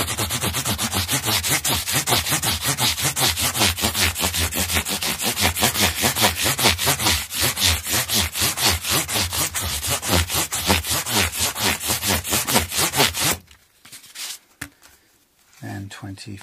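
Micromesh pads are rubbed by hand in quick, even back-and-forth strokes, a loud rhythmic rasping that runs continuously for about thirteen seconds and then stops, leaving faint scattered handling noises.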